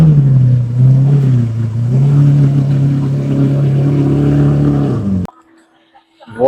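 Engines of a couple of Ferraris rev loudly and roll past on a Cannes street in front of the Martinez hotel, a steady throaty drone for about five seconds that cuts off abruptly, leaving a near-quiet street.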